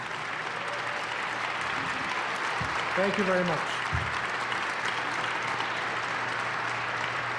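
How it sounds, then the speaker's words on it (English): Audience at a Give BIG Green Bay nonprofit fundraiser announcement applauds for the participating organizations, a dense steady wash of clapping throughout, with a voice briefly speaking over it partway through. "let's have one last round of applause for all the participating organizations in this year's event"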